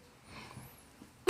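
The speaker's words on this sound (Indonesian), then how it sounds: "sorry batuk ya" A single sharp cough bursts out at the very end, loud and close, after a quiet stretch of faint room noise and breathing.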